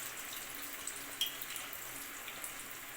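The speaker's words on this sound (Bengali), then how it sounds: "আমি গুড়টা এইভাবে ছেঁকে আমের মধ্যে কিন্তু ঢেলে দিচ্ছি।" Thick liquid jaggery strained and poured over chopped mangoes for a sweet mango pickle, giving a soft, steady trickling and dripping with a small splash partway through, faint and close with no talking.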